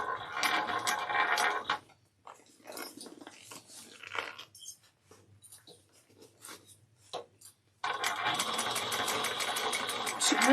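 A sewing machine stitching a bag, its fast mechanical whir coming in loud bursts with a long stretch of quieter handling, shuffling fabric and small clicks between them.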